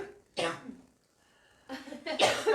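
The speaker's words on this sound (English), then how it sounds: "just let me finish my coughing" A person coughs in a few loud bursts, with a short quiet gap between the first cough and a rougher double cough at the end. The coughing happens during a ghost-hunting visit to an old picture house and museum.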